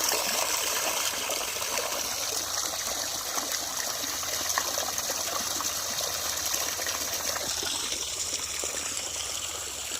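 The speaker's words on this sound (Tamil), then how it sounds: "தண்ணி நல்லா வருதுங்க." Water gushes steadily from the 1.5-inch outlet of a solar-powered Selkon borewell pump, drawn from a 900 ft bore and run by a 5 kW panel in Pollachi, as a loud, continuous splashing hiss up close.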